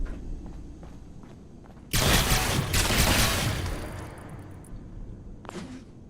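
Gunfire in Fallout 4 erupts suddenly as a loud burst of shots aimed at the player, dense for a couple of seconds and then tailing off, with a short sharp crack near the end over quiet ambience.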